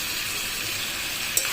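Chicken kosha with fresh coriander leaves being stirred in a hot pan, a continuous sizzle and fry with a soft scrape of the spoon near the end.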